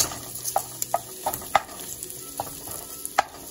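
Breakfast burrito filling with bacon frying in a pan, a steady close hiss of sizzling broken by repeated scrapes and clacks of a utensil stirring and breaking it up.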